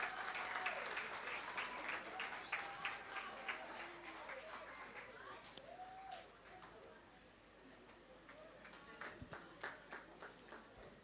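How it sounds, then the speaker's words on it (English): A primary school graduation audience gives the graduating students a round of applause, faint distant clapping with a few louder claps near the end and voices murmuring throughout. "So let's give them a round of applause."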